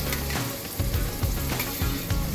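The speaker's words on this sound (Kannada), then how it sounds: "ಇನ್ನು ಈರುಳ್ಳಿ ಸಾಧಾರಣ ಪಿಂಕ್ ಕಲರ್ ಬರೋ ತನಕ ಇದನ್ನು ಫ್ರೈ ಮಾಡುವ." Finely chopped onions and curry leaves fry in a pan for Mangalorean chicken ghee roast. The sizzle is loud and continuous, close by, with soft stirring scrapes running through it.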